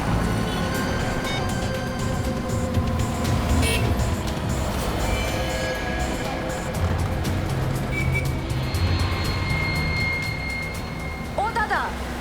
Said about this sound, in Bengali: ও দাদা, এত আস্তে আস্তে গাড়ি চালাচ্ছেন কেন?